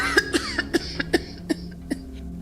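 A Starfield game character coughs repeatedly, about eight short, distinct coughs in an irregular rhythm, close and clear with no talking.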